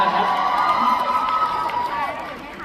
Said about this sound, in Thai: ปรบมือให้น้ำตาลครับ